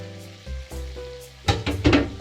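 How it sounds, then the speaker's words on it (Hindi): Mixed vegetables with green chilies and coriander leaves frying in a pan, soft sizzling with a few stirring scrapes and louder crackling bursts toward the end, no talking. "मिक्स करके इसे 1 मिनट भूनूंगी।"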